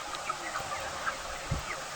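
Broiler chickens on a farm shed give soft, scattered clucks and short calls over a steady low background hum, faint and irregular across a couple of seconds.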